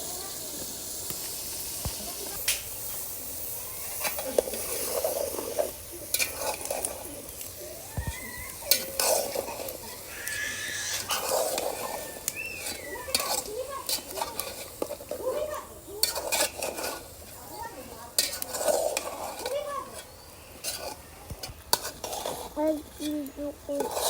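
Vegetables being stirred in a cooking pot for a chicken and vegetable curry, with scraping spoon-on-metal clatter and faint sizzling in irregular bursts, close by, while a voice talks over it.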